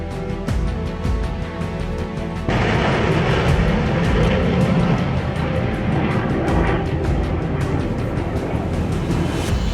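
An Indian Army Rudra military helicopter flies during an exercise at Pokhran, a loud, steady roar with a rapid rotor pulse that swells and thickens partway through and stays strong to the end.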